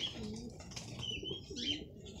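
Pigeons coo softly nearby in a quiet outdoor loft, a few low murmuring calls mixed with faint chirps and light rustling, with no one speaking over them.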